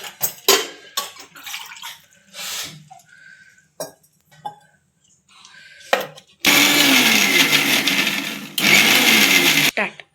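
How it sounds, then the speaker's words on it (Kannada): A mixer grinder whirs loudly while blending green chutney of coriander leaves, ginger, salt and water, running in two bursts with a short pause between. Talk and clattering kitchen sounds come before it. "ಇದಿಷ್ಟು ಮಿಕ್ಸಿಗೆ ಹಾಕಬೇಕು"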